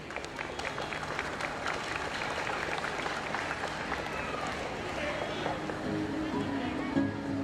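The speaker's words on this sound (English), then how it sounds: "Let us welcome Father Baptist Lopez with a warm applause" Sustained audience applause at a school annual day event welcoming a priest to the stage, a dense steady wash of clapping heard at a distance, with a voice speaking over the end.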